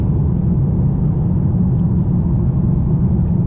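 Steady low engine and road rumble inside a Mercedes A-Class while driving, loud and even throughout with no speech.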